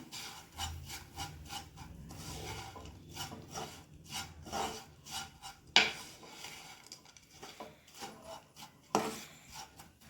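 Roasted puffed rice flakes stirred in a hot kadai for a Karthigai Deepam snack give a steady dry scraping and rasping rhythm, near and moderately quiet, with a couple of sharper clinks of the utensil against the pan.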